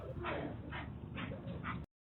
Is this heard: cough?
no